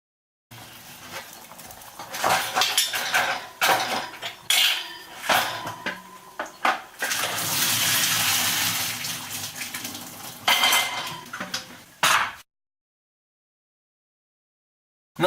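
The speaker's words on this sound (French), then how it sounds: "Une fois que le navet est blanchi, on le passe à la passoire" Blanched turnips tipped into a metal colander with hot water: loud close clatter of pot against colander and a rushing pour of water, then a sudden drop to silence.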